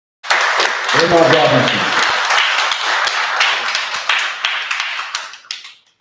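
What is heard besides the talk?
audience applause at press conference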